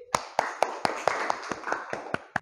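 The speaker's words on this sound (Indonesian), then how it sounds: "tepuk tangannya untuk Mas Hafid" Classroom applause for a student: a steady run of sharp hand claps, roughly ten evenly spaced beats over a couple of seconds, close and fairly loud with no voices.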